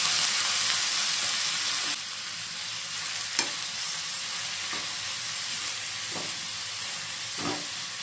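Sliced ridge gourd sizzles steadily in hot oil with fried urad dal, a loud broadband hiss filling the pan while a spatula scrapes and stirs in a few scattered strokes.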